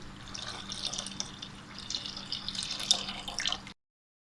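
Milk poured into a pot for mango kheer, a soft continuous splashing, trickling pour lasting a few seconds and then stopping, close and quiet with no speech.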